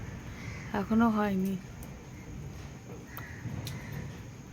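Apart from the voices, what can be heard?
crows cawing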